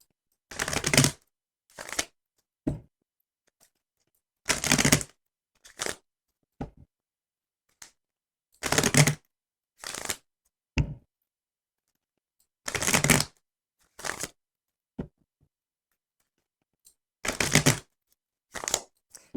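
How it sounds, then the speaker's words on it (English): Rider-Waite tarot cards are shuffled in repeated crisp riffling bursts, close by, separated by short quiet gaps and occasional single taps, with no talking. "I'll take a moment here just to shuffle up the cards."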